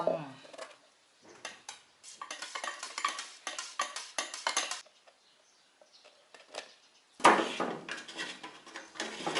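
About 100 ml of paint for a wheel refinish is stirred and mixed in a container, with intermittent scraping and clinking taps, close and fairly quiet, and a brief pause midway.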